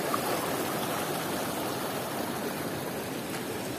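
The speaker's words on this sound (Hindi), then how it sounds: "यहाँ पे सबसे जो बेहतरीन चीज़ है वो ये कुदरती साफ शफाफ पानी है।" Clear mountain water flows in a village stream in Allai Valley, a steady broadband rush and babble that continues unbroken, close and fairly loud, with no voices.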